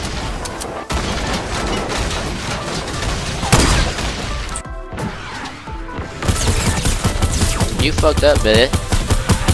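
Bursts of gunfire and crashing impacts from a Fortnite match ring out close and loud in rapid clusters, with players talking excitedly over the shooting throughout.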